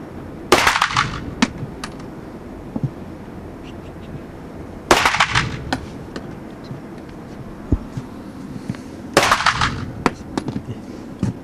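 Gunfire at an outdoor shooting range: three loud bursts of shots about four seconds apart, each with sharp echoing cracks, plus scattered smaller pops and faint background noise between them.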